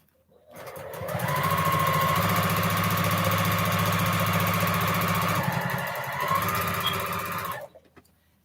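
Longarm quilting machine stitching feather designs, a steady close mechanical hum and rapid stitch rattle running continuously for about six seconds with a slight change in pace near the end, with no voices.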